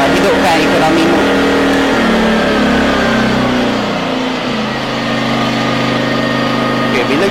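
A Jetmac JI2300 inverter generator runs in economy mode with a loud, steady, close engine drone and a whining tone that dips slightly midway and then holds even.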